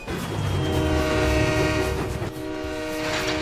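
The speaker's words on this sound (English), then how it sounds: "Diesel gained a different horn sound like that of an American Nathan K3L type" The horn of Diesel from Thomas & Friends, styled on an American Nathan K3L type: a loud, sustained multi-tone chord blast that fades briefly and sounds again, over rumbling train noise.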